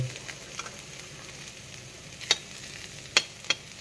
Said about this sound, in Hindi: ये टमाटर की चटनी के लिए लहसुन पहले भून दिए मिर्ची डाल दिए